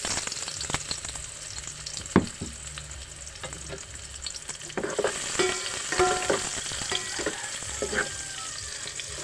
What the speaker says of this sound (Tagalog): Kaya ginigisa ko po itong ricado para mabango.